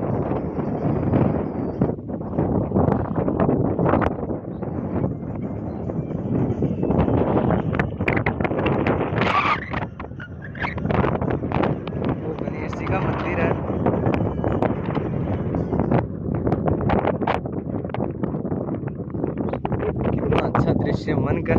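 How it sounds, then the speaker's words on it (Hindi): Strong wind gusts roar across the microphone beside the flooded Banas river, a loud, constant buffeting rumble that rises and falls without pause. "तेज हवा चलती है, आवाज भी सही नहीं आ रही होगी आपको"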